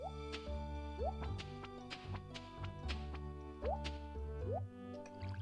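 Watering crops with a watering can in Stardew Valley, with repeated soft plopping splash effects over steady background game music, several bursts spread through the stretch.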